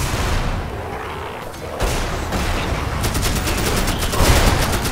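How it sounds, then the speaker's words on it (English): Bursts of rapid gunfire in the video game Magicka crackle over a noisy explosive background, with a sharp volley of repeated shots near the end. "Cam, stop shooting the villagers!"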